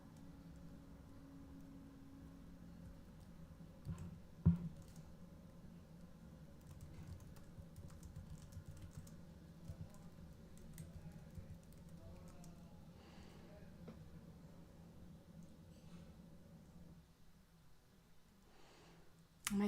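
Quiet typing on a computer keyboard during a live statistics lecture, a faint, steady patter of key clicks over a low background hum, with one louder knock partway through.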